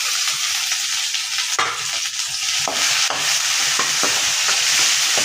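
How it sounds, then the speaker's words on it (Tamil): Tomatoes and onions with garlic sautéing in a pan for a village-style black urad dal chutney, giving a loud, continuous hiss and sizzle broken by a few sharp scraping stirs. "நல்லா தக்காளியும் வந்து நல்லா இழஞ்சி வரவெல்லாம் வதக்கி எடுத்துக்கணும்."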